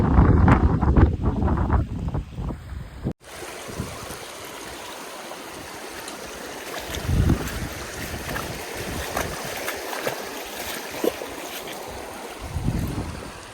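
Mission Creek rushing along the floor of a winding canyon, a steady broadband wash of flowing water close by, with a louder burst of rustle and wind in the first three seconds.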